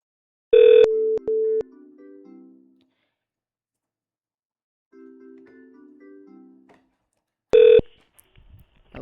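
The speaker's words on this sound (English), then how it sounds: "So I'm gonna go and dial my extension." A softphone dials an extension: a short burst of loud DTMF tones sounds, then a repeating two-tone ring, then another tone burst, with no talking.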